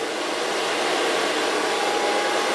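A hair dryer blows steadily while blow drying a short pixie haircut with a round brush, a loud, constant whooshing roar close by with no talking.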